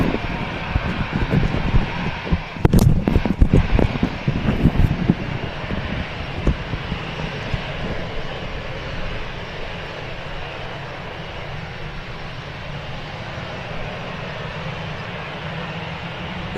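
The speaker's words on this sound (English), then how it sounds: "Lufthansa lining up on the runway." Lufthansa airliner on Flight 2501 to Munich, lining up and taking off from the runway: a loud, broad jet engine roar that swells with a brief burst of rumbling, then settles into a steady continuous drone.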